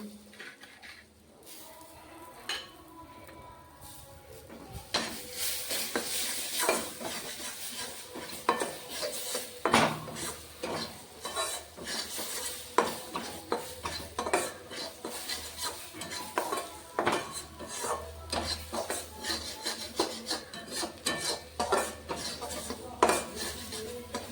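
Ginger garlic paste fries in a pan while a metal spoon scrapes and clatters against it in repeated strokes, with a soft sizzle underneath and no voices.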